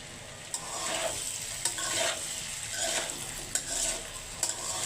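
Thick-cut new potatoes cooking with small fish in a pan, giving a continuous soft sizzle broken by several sharp stirring scrapes and clinks at irregular intervals.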